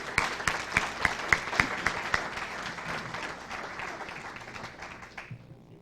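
An audience applauds graduating child development students at a college signing day ceremony, with a few sharp individual claps standing out at first before the clapping thins and fades away near the end.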